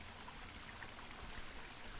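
Soft, steady flow of water in the video game The Longing, a continuous broadband wash at low level with no talk over it.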